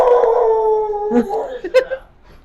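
A dog lets out a loud, drawn-out howl nearby, then breaks into a few short yips and whimpers as it trails off.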